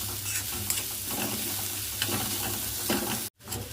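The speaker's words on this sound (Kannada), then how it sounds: "2 ನಿಮಿಷ ಇದು ಹಸಿ ವಾಸನೆ ಹೋಗೋವರೆಗೂ ಹುರ್ಕೋಣ ಕೊಬ್ಬರಿದು" Grated coconut fries in oil in a pan while being stirred, with a steady close sizzle, soft scraping strokes of the spoon and a brief break near the end.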